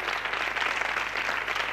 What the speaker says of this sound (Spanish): Un aplauso, enhorabuena.